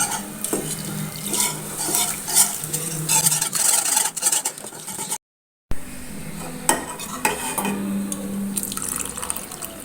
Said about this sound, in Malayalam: ഒരു വിസ്ക് ഉപയോഗിച്ചിട്ട് ഇളക്കി കൊടുത്താൽ മതി